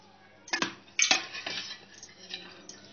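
Metal clinks and scrapes come from a spoon and a pot on a kitchen stove as oil is added, with several sharp chinks followed by lighter stirring sounds. No one speaks.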